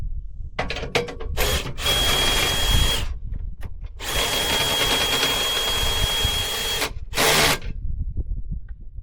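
A power drill cranks down the stabilizers on an Intech Aucta Magnolia camper at a campsite, whining in several close, loud bursts of varying length separated by brief pauses.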